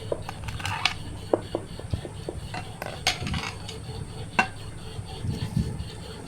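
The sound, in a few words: mixing eggs with salt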